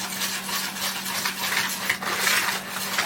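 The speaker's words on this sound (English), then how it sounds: "So you just want to mix up the vegetable oil and the sugar really good." Vegetable oil and sugar stirred together by hand in a bowl for zucchini bread, a steady scraping, swishing stir with soft utensil clinks against the bowl, close and continuous with no talking.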